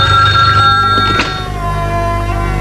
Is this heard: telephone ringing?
yes